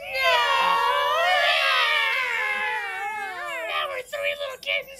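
Several voices imitate meowing kittens, crying like the three little kittens from the nursery rhyme who lost their mittens; long, wavering, overlapping meows, loud and close, that break into shorter choppy cries near the end.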